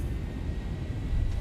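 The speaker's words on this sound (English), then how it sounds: "Takeoff thrust set." Boeing 737 jet engines in a flight simulator run at takeoff thrust, giving a dense, steady low roar and rumble that fills the short stretch without any change in level.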